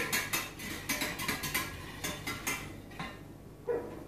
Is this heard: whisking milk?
yes